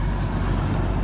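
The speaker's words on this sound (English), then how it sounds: "That's a pretty cattle hauler." A cattle hauler truck rolls past at a harvesting crew's yard, a steady low engine rumble and road roar filling the brief moment without a pause.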